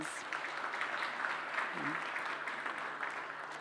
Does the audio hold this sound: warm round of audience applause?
yes